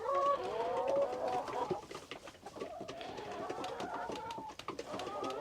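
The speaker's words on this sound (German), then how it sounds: "Da seht ihr jetzt, das sind insgesamt 40 neue Hühner." A flock of about forty new young hens in Isaan, Thailand, clucks and coos in overlapping calls, moderately close, with no talk over them.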